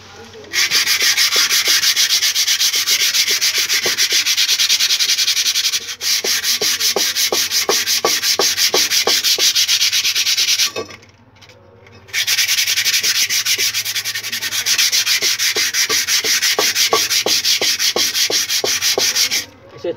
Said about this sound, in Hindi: सबसे पहले इसके ऊपर पट्टे वाला रेगमाल लगा लेंगे, 100 नंबर या 80 नंबर कोई भी रेगमाल हो।